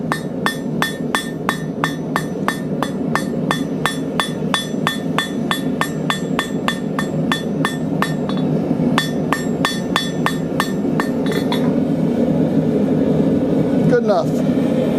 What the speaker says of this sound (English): I'm going to use a rounding hammer on the end here, just to round that out.